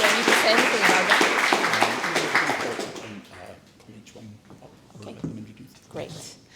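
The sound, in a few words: audience applause for Eleanor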